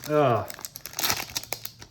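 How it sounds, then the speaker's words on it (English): A Magic: The Gathering Kamigawa Neon Dynasty collector pack wrapper crinkles as it is cut and handled, with a voice briefly at the start and then sharp crackling foil rustles. "I'm always scared when I'm opening packs with a pair of scissors"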